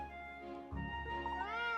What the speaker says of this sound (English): that's not Rex, that's some other cat. Different colour fur and everything